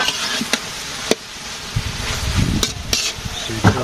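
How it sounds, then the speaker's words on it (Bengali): A vegetarian vegetable curry frying in a pan with stirring: a soft sizzle under intermittent scraping and clattering strokes of the spoon, close by, with faint background sounds and no talking. "রান্না করতেছি নিরামিষ তরকারি"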